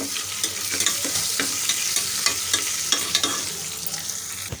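Ingredients stirred in a sizzling pot while making a raw rice and toor dal tiffin dish, a spoon scraping in quick repeated strokes over a constant frying hiss.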